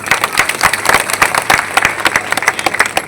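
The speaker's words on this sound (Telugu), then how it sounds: "ఈ సందర్భంగా చప్పట్లు కొట్టి" An audience claps at a public annual meeting in Tuni, a moderate crowd with distinct individual claps standing out in an uneven patter, fairly close and steady throughout.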